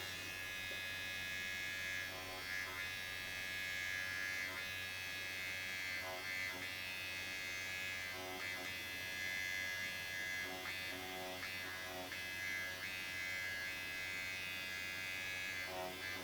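Electric microneedling pen set to its second speed, working over skin coated in hyaluronic acid, giving a steady, close, high-pitched buzz that runs unbroken throughout with slight wavering.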